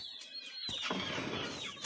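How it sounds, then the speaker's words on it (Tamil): Free-range country chickens, roosters, hens and chicks, cluck and squawk close by, with a sharp burst of birdcalls partway through and busy fowl chatter continuing afterward. "சேவல் கோழி எல்லாம் குஞ்சுகளும் கொந்துக்குங்க"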